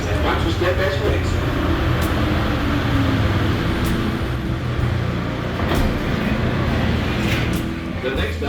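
Steady low rumble of a people-mover train in an airport terminal, with hum of motion and faint background voices throughout, slowing gradually toward a stop.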